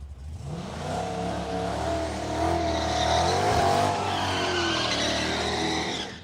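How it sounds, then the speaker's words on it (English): A drag racing car at Willowbank Raceway skids its tyres with a sustained engine roar and squealing, loud and continuous for several seconds before cutting off. "He gives it a good skid."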